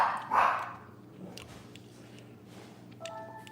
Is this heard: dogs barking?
yes